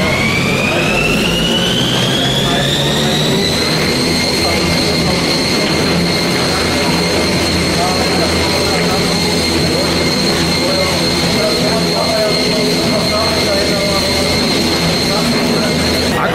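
Hockey skating treadmill machine running at speed, a steady loud mechanical whine and hum with a rising tone that settles into a constant pitch, continuous throughout.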